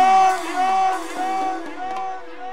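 Women in a tent audience at a live folk concert shout and whoop for the singer, a bright layered roar of high voices with sliding whistle-like cries, loud and sustained with brief swells.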